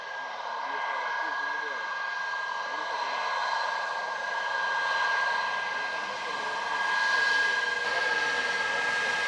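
An airliner taking off from runway 25 at Montego Bay, Jamaica, in wet conditions, a sustained distant jet roar that swells and fades gently with a high engine whine, while radio chatter is heard underneath.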